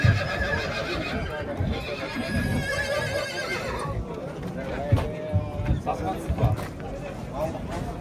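At a horse market, a young male colt whinnies amid crowd babble and nearby talking, with hoof clops and general livestock-yard bustle around it.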